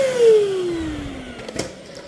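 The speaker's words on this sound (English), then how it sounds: "So yeah, it's just a really nice vacuum for hardwood tile floors, probably not for carpet, but picks up hair, dust, etc." A 600-watt handheld stick vacuum cleaner, convertible to a full stick cleaner, whines steadily as its motor winds down in pitch, with a brief clatter near the end and no talking.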